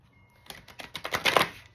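Oracle cards from a Spirit Animal Oracle deck shuffled close by, a quick series of papery riffling bursts that builds and thickens toward the end, with no talking.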